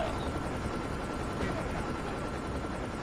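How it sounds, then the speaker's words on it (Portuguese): A helicopter in the mobile game Call of Duty Mobile makes a dense, steady rotor and engine rumble that fills the clip at moderate loudness, with no talking. "Meu time puxou helicóptero."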